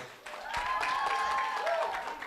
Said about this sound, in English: Let's give them a big round of applause, guys.